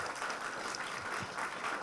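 Audience applause at a political forum for a congressional race, a soft, continuous patter of clapping from a room of people, fairly quiet and unbroken throughout.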